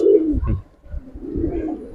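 Silver Bagha pigeons coo in a close, soft, low throaty rhythm, a run of rolling coos broken by a short pause and then resuming.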